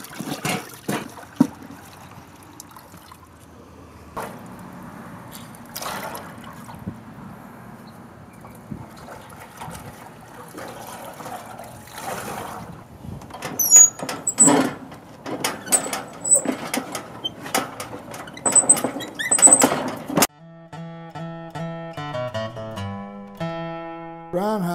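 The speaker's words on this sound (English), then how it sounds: "It's called an automatic washer. Sort of like a plunger. You will wash the entire load at one time." An antique plunger-style automatic washer works a load with irregular sloshing water and mechanical clunks that grow busier and louder midway, then give way to tonal music at the end.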